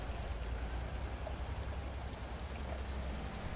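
Steady rain falls in a soft, even hiss with faint scattered drop patter, continuous and unbroken, with no voices.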